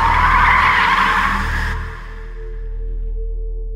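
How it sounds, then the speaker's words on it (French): An Airbus A380 brakes hard on the runway after an engine failure, with a loud sustained roaring screech that cuts off abruptly and leaves a low engine rumble droning on. "Une fois l'avion stabilisé, il se met quasiment debout sur les freins."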